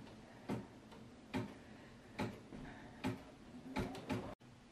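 An embroidery machine sews with faint, evenly spaced mechanical thumps about once a second, six in a row, over a quiet background hum.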